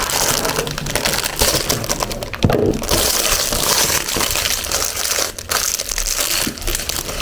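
Continuous crinkling and crunching of packaging material around a MacBook Air hard case being handled and cut open with scissors, close and fairly loud, with occasional sharper snips and cracks.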